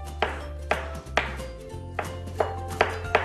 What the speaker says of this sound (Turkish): cevizlerimizi güzel güzel ince ince doğruyoruz